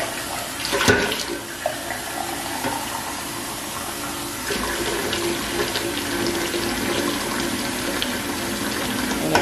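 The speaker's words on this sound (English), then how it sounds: "Well, I do have to add some more water." Tap water pours steadily into a canning pot for cranberry sauce jars, a continuous close rushing splash after a few clanks at the start, with no speech.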